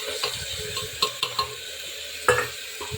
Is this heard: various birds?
no